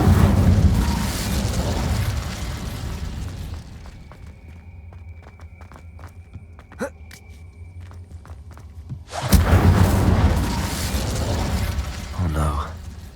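An Incendio fire spell from the Hogwarts Legacy video game bursts loudly with a roaring blast, fades to a quiet stretch with scattered clicks, then erupts again in a second heavy whoosh of flame.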